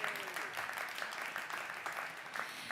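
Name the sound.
audience applause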